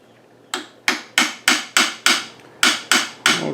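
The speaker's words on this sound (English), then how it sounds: "we hit it many a times with the brass drift there, and it's starting to come out" Sharp metallic strikes of a brass drift being hammered against a Ruger 10/22 rear sight dovetail, nine crisp evenly spaced blows ringing out close and loud with brief decays between them.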